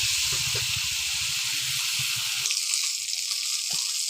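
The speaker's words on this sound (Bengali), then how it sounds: "এই কারণে বেগুনটা সুন্দর করে ভেজে নেব" Eggplant frying in a pan of hot oil gives a steady, even sizzle and hiss throughout, with a few faint pops and clinks and no talking.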